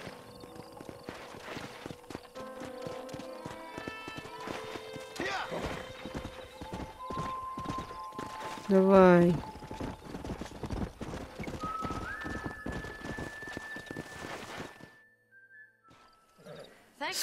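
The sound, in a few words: horse hooves and neighing in the video game Red Dead Redemption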